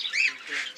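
Lovebirds with chicks in a breeding cage, a violet male paired with a black female: a short burst of high, shrill chirping calls, fairly close.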